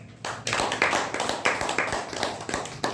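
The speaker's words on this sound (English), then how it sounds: "Please continue clapping." Meeting audience clapping at a Toastmasters club session, a steady patter of hand claps with a few sharper individual claps standing out, fairly close and continuous throughout.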